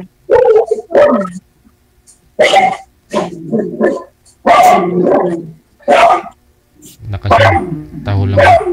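A dog barks loudly in several sharp bursts close by, with people talking between and over the barks.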